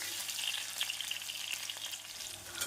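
Sliced onion and chopped coconut fry in a pan for Kerala-style kadala curry, giving a steady close sizzle and crackle with light stirring scrapes and no talk.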